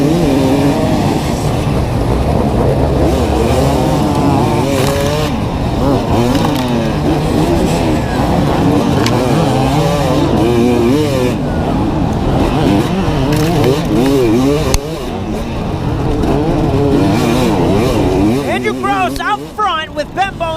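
Dirt bikes roar off the line at the start of the AA class hare scramble at Dream Riders, a WNYOA race: a steady, loud mass of revving engines that rises and falls for the whole stretch, with an announcer talking over it.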